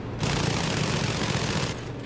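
Sustained machine gun fire in Battlefield V, a dense, continuous burst of rapid shots lasting about a second and a half, loud and close, then cutting off abruptly into a quieter rumble.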